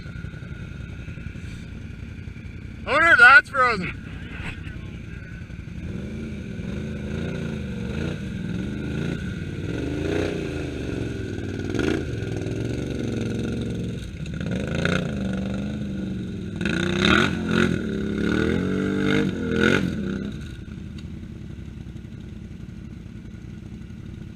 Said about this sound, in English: Sounds like the RPMs are a little high